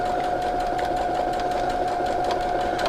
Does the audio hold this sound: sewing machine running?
yes